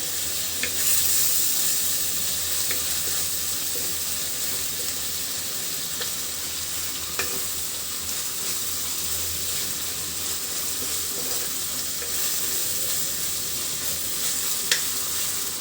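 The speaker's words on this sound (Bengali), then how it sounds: "এখন একটু মশলাটা ভাজা ভাজা করে নিব।" Spice paste sizzles steadily in a pan while a fish curry is being cooked, a constant close, bright frying hiss with occasional faint stirring clicks and no talking.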